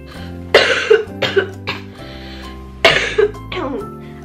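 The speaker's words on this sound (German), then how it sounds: "Ich muss gerade so viel husten." Several harsh coughs come in two bursts, close and loud, separated by a short quiet pause.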